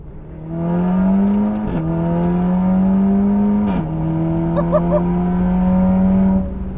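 An Audi TT four-cylinder engine accelerates hard on a highway with a loud, close drone that climbs in pitch, then drops twice at gear changes before climbing again. It fades near the end, with no talk.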